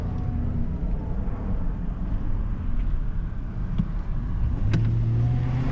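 A 2005 GMC Sierra 2500 HD pickup drives under throttle. Its engine gives a continuous, moderately loud drone, and a rising tone creeps in toward the end.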